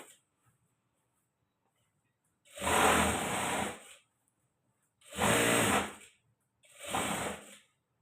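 A sewing machine stitches the back seam of a blouse in three separate bursts, each running steadily for about a second and ending abruptly, with quiet pauses between them and no talk.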